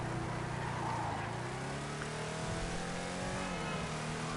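A muscle car engine in the GTA video game revs and accelerates, a steady loud drone with rising and falling pitch sweeps that continues throughout with no talking.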